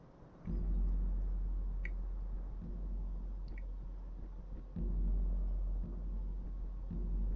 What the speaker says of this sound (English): You can still hear the storm outside